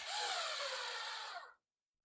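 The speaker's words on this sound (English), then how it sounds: "Oh, we're not setting screws. We're drilling holes." A cordless screwdriver drills holes in plywood during a boat build. It gives a steady, loud whirring buzz for about a second and a half, then stops abruptly and leaves silence.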